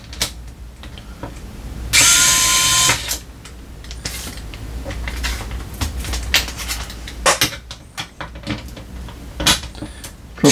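A power drill bores screw holes in the casing of an Inkel CCD-701 cassette deck: one loud whirring burst of about a second, followed by quieter handling clicks and scrapes.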